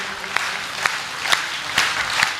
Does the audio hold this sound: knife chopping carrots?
no